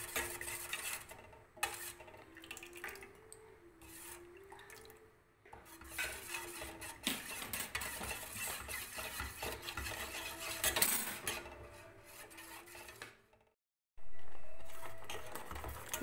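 A spoon scrapes and clinks quietly in a pot while ragi malt mixture is stirred continuously as it thickens, soft and close, with a brief silent gap near the end before a louder burst.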